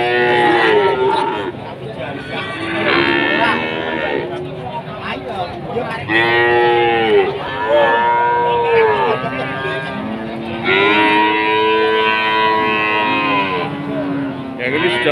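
Simmental and Limousin cattle, including five-month-old heifer calves, moo repeatedly at the Pon Jaken livestock market, with several loud, drawn-out calls overlapping amid market chatter.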